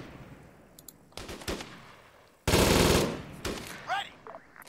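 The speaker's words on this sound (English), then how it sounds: "Let's suppress them again. Suppressing fire." Suppressing machine-gun fire in the video game ArmA comes as two loud, rapid bursts, the second longer and heavier, among scattered sharper single reports and a faint voice.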